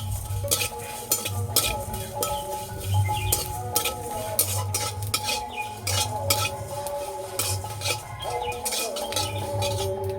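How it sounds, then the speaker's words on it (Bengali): Whole spices and dried red chillies being fried and stirred in a wok for a mango pickle, with steady close sizzling and repeated metallic scrapes and clinks of a spatula against the pan. "এই আচারের জন্য গোটা মশলা ভেজে নেব"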